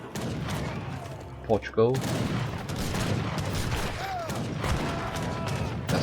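Organ guns fire volleys in a 2v2 tournament video game match, giving a rapid crackle of gunfire amid battle noise while a commentator talks over it.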